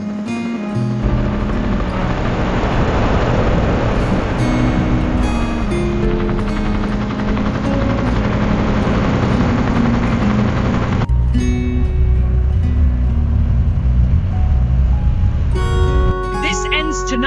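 Helicopter taking off in a zombie-themed game scene, a loud continuous rotor and engine roar with a steady whir that shifts partway through, joined by music and effects.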